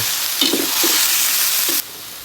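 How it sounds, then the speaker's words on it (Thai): Fish meat, water and fingerroot stir-fried in a hot pan: a loud, close sizzle with a few scraping stirs, cutting off abruptly near the end to a softer hiss. "เราก็จะใส่เนื้อปลาลูกชิ้นลงไป เติมน้ำลงไป ตามด้วยกระชาย"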